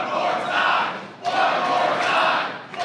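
Crowd shouting and roaring at an MMA fight, a loud sustained wall of voices that swells in two surges and briefly dips between them.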